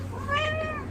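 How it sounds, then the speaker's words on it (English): A cat gives a single short, clear meow close to the microphone indoors, standing out over a low steady hum. "I'm so sorry about my cat."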